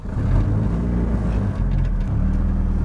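Inside a car while driving, a loud, steady engine drone and low road rumble fill the cabin, with a brief dip in the middle before the noise resumes.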